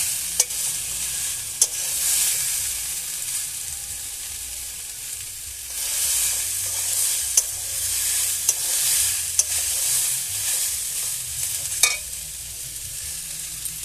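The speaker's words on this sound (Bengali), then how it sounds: "মটরটা আমি তুলে দিয়েছি, তেলে হালকা করে তেলে একটু নেড়ে নেব" Peas stirred and fried in a little oil, a continuous close sizzle broken by sharp, regular clicks and scrapes of a spatula against the pan, with no talk.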